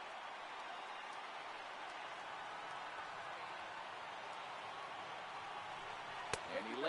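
Stadium crowd murmur in MLB The Show 18, a video game baseball crowd of over 29,000 rising to its feet, a steady broad roar throughout with a sharp knock near the end.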